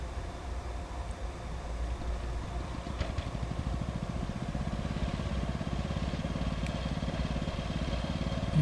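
A homemade DIY riding lawn mower engine runs at a steady, rapid chug, close and continuous for several seconds with a low throbbing rhythm and no talk.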